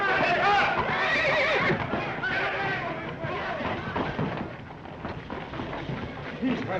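Horses neigh and whinny amid a chaotic battle scene, with hoofbeats and shouting voices mixed throughout; the sound is loud and dense, with people talking over it.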